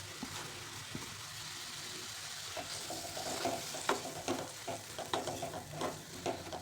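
Dingri vegetables fry in a spiced pan for a traditional village-style dish, a steady sizzle broken by repeated scraping and clattering stirs that grow busier toward the end, with no talking.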